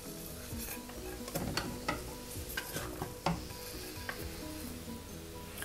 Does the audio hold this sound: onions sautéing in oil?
yes